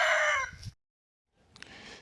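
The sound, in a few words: rooster crowing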